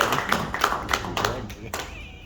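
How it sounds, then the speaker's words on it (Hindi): Scattered audience clapping at a business networking presentation, a handful of distinct claps and taps at irregular spacing with voices murmuring underneath. "तालियां तालियां तालियां तालियां।"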